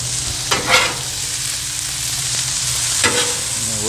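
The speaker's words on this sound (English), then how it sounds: "we'll melt down a little bit of butter in there as well" Butter melts and sizzles in a pan alongside carrots for a brown sugar glaze, a steady close frying hiss with two brief scraping stirs.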